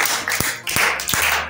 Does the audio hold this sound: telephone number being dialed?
no